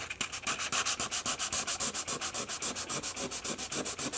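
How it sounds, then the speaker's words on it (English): Rapid back-and-forth sanding strokes of a 1000 grit sanding block on a car's clear coat, a steady rhythmic rasp of about seven strokes per second, close and continuous with no talking. "we definitely want to use a sanding block, either a rubber pad or a regular sanding pad"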